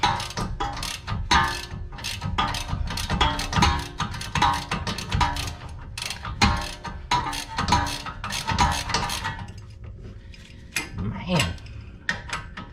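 Ratchet wrench loosening bolts on a Honda Civic during teardown, rapid close metallic clicking in repeated bursts with clanks of tools and parts, brief pauses between strokes.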